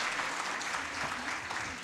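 A large crowd gives dense, continuous applause at the closing ceremony of St. Edmund's College's centenary celebrations, with many overlapping claps forming a steady roar at a fair distance.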